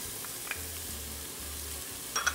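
Onions and pimento sizzle in a pan for a Trini macaroni pie base, a brief steady hiss close by with a couple of small clicks near the end.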